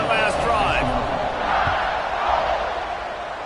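Stadium crowd at an Alabama football game roaring in a broad, sustained wash of noise with rising whoops, loud and continuous, partly under a commentator's voice.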